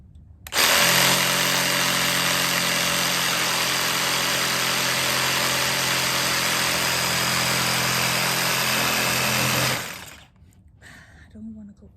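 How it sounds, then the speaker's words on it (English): A jigsaw cuts wood for a radiator cover, buzzing loud and steady at close range for about nine seconds before it cuts off, leaving quiet handling noise. "I'm not a fan of the jigsaw."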